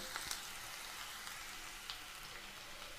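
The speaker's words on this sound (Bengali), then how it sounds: "লাল লাল করে আমরা পেঁয়াজটাকে নাড়াচাড়া করে নেবো" Onion sizzles steadily in hot oil as it fries to a reddish brown in a pan, with a few soft stirring clicks over a continuous close, even crackle.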